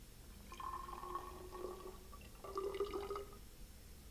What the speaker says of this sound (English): pour the water into a graduated cylinder